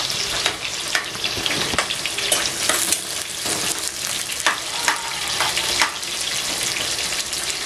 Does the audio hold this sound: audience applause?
no